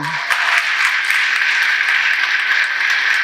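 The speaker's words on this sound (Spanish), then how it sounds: "Denle ese aplauso al Señor" A congregation at a church formation gathering applauds, giving a dense, even wash of clapping that holds steady at full strength throughout.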